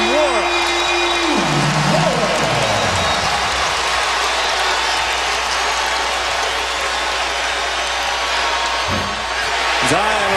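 Blackout crowd at a Duke versus Louisville college basketball game cheering and applauding, a dense, steady roar filling the arena with sneaker squeaks, while a commentator talks over it throughout.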